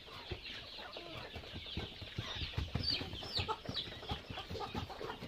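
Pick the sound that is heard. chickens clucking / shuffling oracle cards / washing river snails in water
chickens clucking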